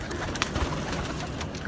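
A golden pigeon of an original breed kept by Ustad Mian Nazir gives off soft, close coos and bird sounds, broken by a few short clicks and rustles, with no voices.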